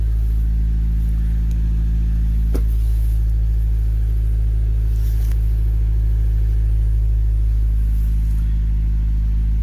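A steady low engine idle from a turbo-built Honda Del Sol hums throughout, with a faint continuous mechanical whir of the fuel pump above it and a brief click near the start.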